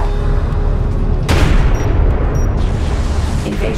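Gunfire hitting a sand skimmer in a desert war strategy game, a loud sharp burst followed by rapid rattling shots and rumbling impacts, with brief electronic tones over steady combat noise.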